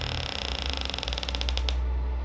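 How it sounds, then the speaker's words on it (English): A door being unlocked and opened gives a loud, close, drawn-out creak that rises in rapid rattling pulses before cutting off sharply near the end. "took out his keys, and went to open the door"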